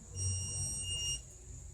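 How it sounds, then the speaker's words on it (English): A Trotter MAGWheel electric board, tipped on its side or not level, gives one steady high electronic beep lasting about a second over a low background hum. "The board will beep if it's on its side, if it's not level."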